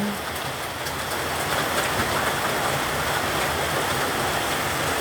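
A downpour of heavy springtime rain roars as a constant broadband wash of drops, loud and unbroken throughout.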